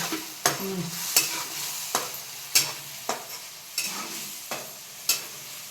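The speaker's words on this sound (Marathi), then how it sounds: "आता टाकले असं परतून घ्यायचं" A wet spice paste sizzles in a pan for a sprouted moth bean curry while a spoon stirs it, giving a steady frying hiss punctuated by about ten regular scraping stirs, close and alone.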